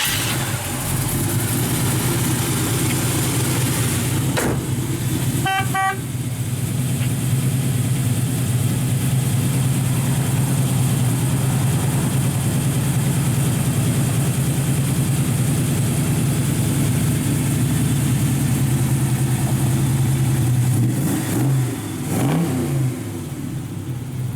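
1967 Chevy II Nova resto-mod V8 idling through dual exhausts with stainless mufflers, a deep steady rumble held for the whole stretch, with a brief click early and a slight shift in tone near the end.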